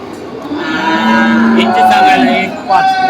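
Cattle low repeatedly at a crowded bull market in Dhule, with loud sustained moos ringing over a busy background of crowd murmur.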